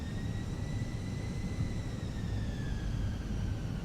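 Fenix A320 jet engines in a flight simulator whine steadily with a layered high turbine tone and a broad roar underneath, sustained and close, with no voices.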